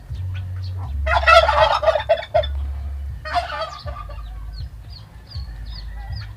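Two loud bursts of turkey gobbling rise over a low rumbling background, with faint chirps in between.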